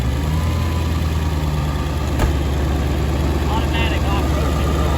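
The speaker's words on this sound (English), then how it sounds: "Got the Power Stroke out here, actually being used for something." A Ford 7.3 Power Stroke diesel truck runs on high idle outdoors, a steady, loud, close engine drone with constant vibration and no change in pitch throughout.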